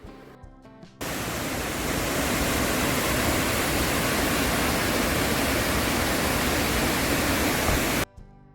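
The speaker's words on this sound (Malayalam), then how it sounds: "ചീയപ്പാറ വാട്ടർഫോൾസ്" A roaring waterfall, Cheeyappara Falls near Munnar, kicks in after a moment of quieter sound, a loud, dense, unbroken rush of falling water that cuts off abruptly near the end.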